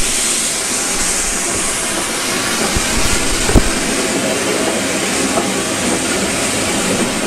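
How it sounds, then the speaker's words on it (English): A train hauled by a small prairie tank steam locomotive pulls away on a heritage line, a steady hissing and rumbling wash with a few sharp clanks and thumps midway, heard from close by without talk. "another train hauled by a small prairie tank locomotive"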